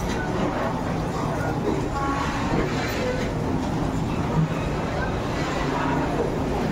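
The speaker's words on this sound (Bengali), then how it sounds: "মাল গাড়ি যাচ্ছে," A freight train passes through Koraput station, a loud continuous rumble and rolling wheel noise filling the whole stretch with faint clanks, steady from start to finish.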